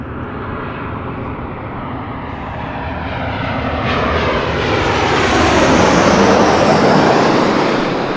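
An airliner arriving at LAX on the north side runways roars steadily and grows louder as it nears, its engine noise rising and sweeping overhead close by.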